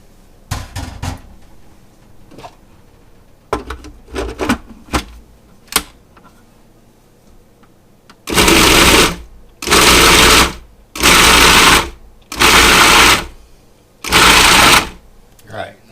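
Raw shrimp are ground in an electric grinder, with several loud whirring bursts of about a second each in quick succession, preceded by scattered clicks and handling knocks.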